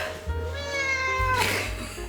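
A clingy house cat with separation anxiety lets out a long, loud drawn-out meow close to the listener, followed by a rising second cry over a steady low background hum.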